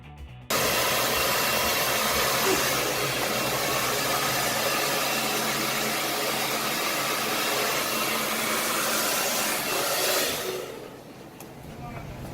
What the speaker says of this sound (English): And now blower.